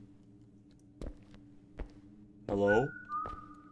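A short rising whistle in a home invasion video game rings out near the middle, alone and fairly loud, followed by a sustained tone and a few low thumps, with a person briefly speaking.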